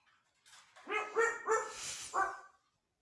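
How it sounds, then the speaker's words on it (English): Several dogs bark in a quick burst of four or five loud, close yaps and woofs inside a home during an online session, with quiet before and after. "My dogs are barking."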